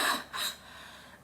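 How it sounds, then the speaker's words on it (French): Two short, breathy coughs come close together on a doctor's request during a medical examination, followed by quiet. "Toussez, s'il vous plaît."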